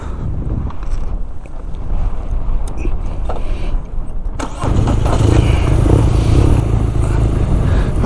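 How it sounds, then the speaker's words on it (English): Strong wind roars across the microphone at Smith Point Beach, a steady heavy rumble that gets louder and fuller partway through, with no voices. "it's really blowing"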